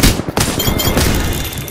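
Rapid automatic gunfire from the video game Apex Legends, loud and close, with dense repeated shots and a sharp crack early on, continuing steadily through the moment.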